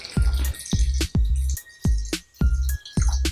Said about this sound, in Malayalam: നമുക്കിതിലേക്ക് 1 കപ്പ് വെള്ളം ഒഴിച്ചു കൊടുക്കാം